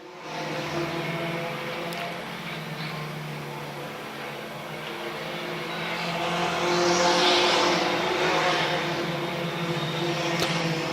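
Allison Legacy Series race cars circling Dillon Motor Speedway: a steady, distant engine drone from the field that swells midway as the pack passes, then holds on without any break.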